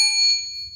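A small metal bell or chime gives a single clear ding that rings out and slowly decays, heard alone and fairly close.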